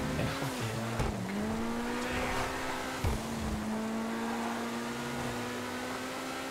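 A Ferrari 40 supercar driven in GTA 5 Online, its engine a steady droning whine that shifts pitch with gear changes and throttle, with brief tire-slide noise, loud and continuous with no voices.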